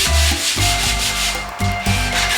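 Steady back-and-forth block-sanding strokes scrape across an Oldsmobile Cutlass Supreme car body in a regular rhythm, close and loud, with no talking.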